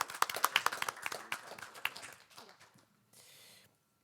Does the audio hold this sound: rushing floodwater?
no